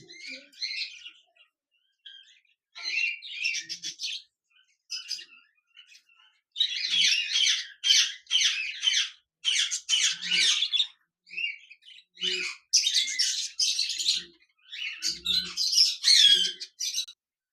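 Cockatiels at a bird farm give shrill chirps and squawks in bursts, several birds calling close by, with brief quiet gaps between outbursts.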